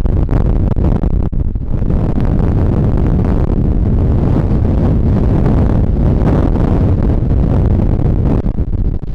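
Strong headwind roars and buffets the microphone of a cyclist bikepacking the Great Divide Mountain Bike Route across dusty open country in New Mexico, a loud, steady rumbling gust that fills the whole stretch.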